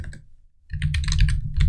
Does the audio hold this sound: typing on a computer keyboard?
yes